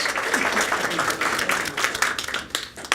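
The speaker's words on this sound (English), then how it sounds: "give yourselves a round of applause" Audience applause at a talk on the faith and work movement, a dense burst of many hands clapping close by that fades out near the end.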